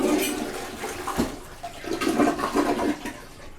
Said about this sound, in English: That is a much stronger flush than my previous toilet.